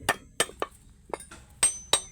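Sharp metallic hammer blows on the edge of a steel pipe being shaped into a hammer head, six distinct ringing strikes in an uneven rhythm, close and loud with no talk.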